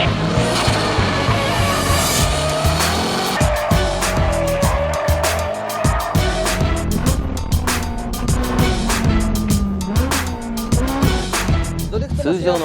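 Drift cars sliding at a D1 Grand Prix event, with loud continuous engine roar and repeated tire squeal throughout, engines revving and shifting pitch as the cars swing through the slide.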